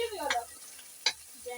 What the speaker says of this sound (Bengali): এবার আমি এটাকে একটু ভেজে নেব কিছুক্ষণ।